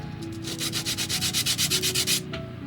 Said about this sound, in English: we're going to start sanding all the pieces